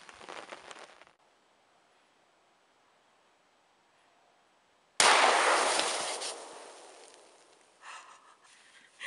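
A single loud rifle shot on a frigid deer hunt in rifle season, a sharp broadband blast that decays over a few seconds after a quiet stretch, with faint rustling before and a small thump at the end.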